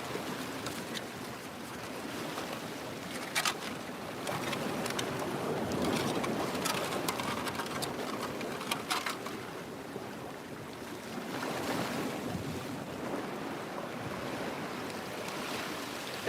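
Breezy wind blowing outdoors beside open water, a steady broadband rush that swells and eases for the whole stretch, with no talking.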